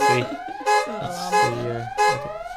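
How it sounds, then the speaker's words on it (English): A rising, wailing alarm tone repeats in three loud swells, each sweeping upward, with layered electronic harmonics and no talking. "Big alarm sound."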